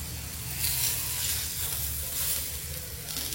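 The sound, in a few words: koravai fish frying in a pan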